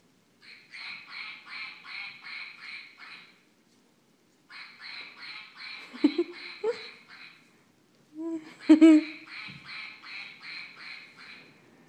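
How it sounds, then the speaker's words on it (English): A squeaky toy duck quacks in repeated rhythmic bursts, a run of squeaks, a pause, then another run, with brief soft voices and a few knocks in between, close and fairly clear. "Quack the duck."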